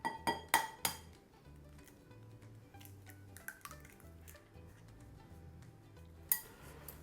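Raw prawns are stirred with white pepper in a bowl, giving a few sharp clinks of utensil against the bowl at the start and again later, with faint wet shuffling between, quiet and close.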